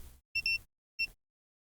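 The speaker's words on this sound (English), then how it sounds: "So we should get a beep on one side." A multimeter gives two short, clean electronic beeps during a continuity test on a Nintendo Switch OLED circuit board that has no power, close and clear against silence.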